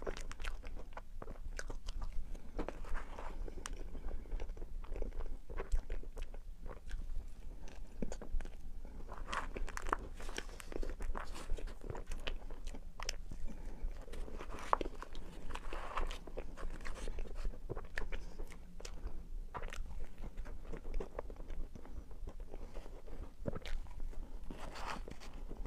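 Someone eats a five-inch matcha Oreo mille crepe cake, with close, steady soft crunching and chewing that continues throughout without talking.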